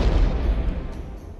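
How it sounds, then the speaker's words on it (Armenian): A powerful explosion as the hospital ship Britannic strikes a German sea mine in the Mediterranean, one deep, loud booming blast that rumbles and slowly fades. "առավոտյան ժամը 8-ին անսպասելիորեն հզոր պայթյուն լսվեց"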